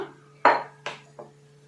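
Three sharp metallic clanks of a pot of water being set down on a stove, loud and close, spaced apart over a steady low hum.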